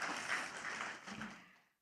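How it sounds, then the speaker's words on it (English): An audience at a Bangladesh investment summit applauds briefly, a soft wash of clapping that tapers off quickly into silence. "Please, a big round of applause."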